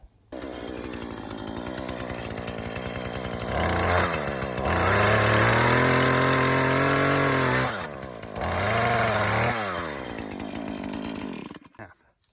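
A loud power saw roars steadily, its pitch dropping twice as the blade bites into a pressure-treated wooden cross piece, then revving back up before cutting off.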